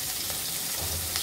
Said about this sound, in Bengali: আমাদের মাছগুলো ভাজা হয়ে গিয়েছে